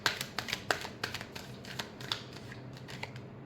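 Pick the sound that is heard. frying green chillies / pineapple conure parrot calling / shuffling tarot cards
shuffling tarot cards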